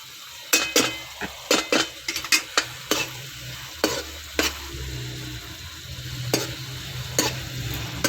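Chicken macaroni is stirred in a pan with lemon juice added, giving a series of sharp spoon scrapes and clinks against the metal over a low, steady sizzle, the strokes bunched early and then spaced apart.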